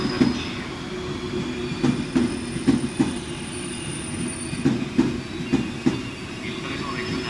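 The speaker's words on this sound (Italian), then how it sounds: "Il treno regionale dell'Italia proveniente da Venezia a Santa Lucia e diretto a Verona Porta Nuova delle ore 15:24 è in arrivo al binario 8" A regional train pulls into a platform at Venezia Mestre station, its wheels clicking rhythmically over rail joints with occasional squeals and a thin high whine, close and continuous.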